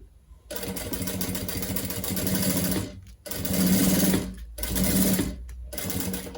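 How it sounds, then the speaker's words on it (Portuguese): A sewing machine stitches a curve on a crossbody bag, running loud and close in three steady whirring bursts separated by brief pauses. "vou costurar aqui, ó, faço aqui a curvinha"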